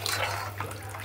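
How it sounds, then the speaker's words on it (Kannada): Water is poured into a pot of sambar in a home kitchen, a brief soft splashing pour with a faint background hum. "ಹಾಗಾಗಿ ಇನ್ನೂ ಸ್ವಲ್ಪ ನೀರು ಹಾಕೊಳ್ಳೋಣ."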